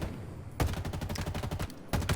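Assault rifle fire in the video game Halo Infinite: a loud, rapid automatic burst of evenly spaced shots lasting over a second, then a second burst starts just before the end.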